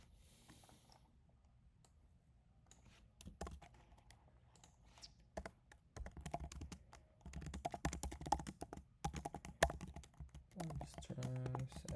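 Computer keyboard typing as code is entered, starting sparse and building into dense bursts of rapid clicks and key taps, fairly close, with no talking.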